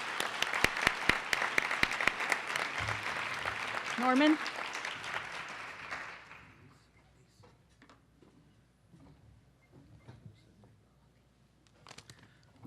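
An audience at an award luncheon claps in a dense burst of applause that lasts about six seconds and then fades to scattered claps and room noise. A voice briefly speaks over the clapping.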